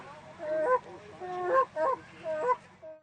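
A man imitates the honking call of a Canada goose at an outdoor games event, producing a series of nasal two-note honks in uneven bursts, close and fairly loud over a low background rumble.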